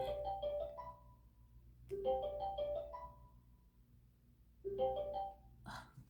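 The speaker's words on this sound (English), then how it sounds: "My phone is ringing." A mobile phone rings in repeated melodic bursts of tones, three rising-and-falling phrases over a steady low hum, fairly quiet and close by with no talking.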